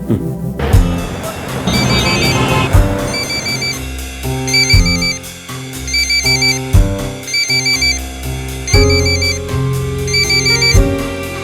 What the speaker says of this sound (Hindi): रिंग जा रही है सर